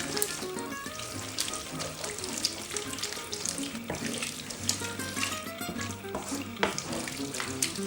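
Pasta being stirred in a pan with provolone cheese to cream it, a continuous wet, sloshing and faintly sizzling texture heard close up with no talk.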